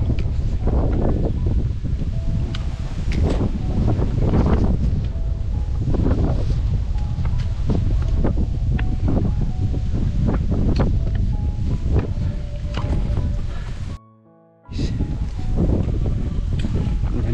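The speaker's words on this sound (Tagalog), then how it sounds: "Lakas ng hangin." Strong wind on Seven Star Mountain in Yangmingshan, Taipei, buffets the microphone in heavy gusting roars, continuous and loud, with a brief dropout near the end before the blustering resumes.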